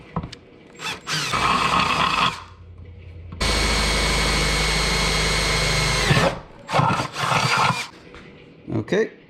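A power drill with a 1/2 inch bit bores holes into a Ram 3500 pickup, whirring loudly in close bursts with one long sustained run, and a voice talks between the bursts.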